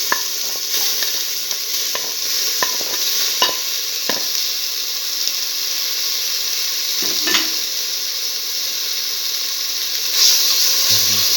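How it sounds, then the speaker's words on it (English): Tomato pieces sauté in a pan for a split pigeon pea stew, a constant close sizzle broken by a series of sharp scraping stirs and a few clinks of the spoon against the pan, with no talking. "Thoroughly saute the tomato pieces."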